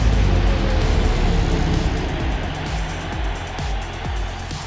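A 1970 Boss 302 Trans Am engine roars continuously at full throttle during a race at Laguna Seca in Forza Motorsport, loud and close, with pitch rising and dropping across gear shifts.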